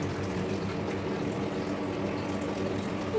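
Water runs continuously in an indoor display at the Sri Chamundeshwari temple museum in Gowdagere, a steady, dense rushing wash with no voices.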